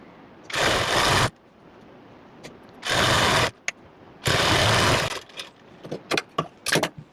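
A sewing machine runs in three loud sustained bursts of stitching on summer suit fabric, separated by quiet pauses and followed by several short stuttering starts.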